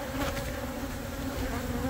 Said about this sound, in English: that's where those bees are at. They're not happy with me.